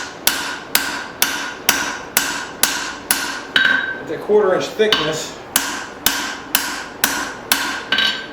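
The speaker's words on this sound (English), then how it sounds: "as I hammer this thing down" Steady rhythmic hammer blows ring out on metal while forging a tomahawk, about two per second, with a short pause midway while a voice speaks briefly.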